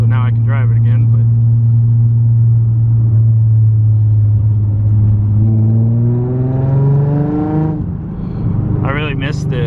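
Nissan 350Z engine running nearby, a loud low idle drone that climbs into a rising rev partway through before settling, with a person talking over the start and end.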